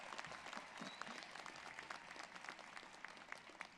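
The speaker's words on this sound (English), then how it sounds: "we should definitely clap for that." A steady burst of audience applause at a university commencement, many hands clapping together in a dense, even patter at moderate distance.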